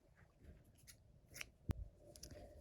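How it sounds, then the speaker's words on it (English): Scissors make a single sharp snip through crochet yarn, heard close up over quiet fabric rustling and handling noise. "I'm just going to cut the yarn"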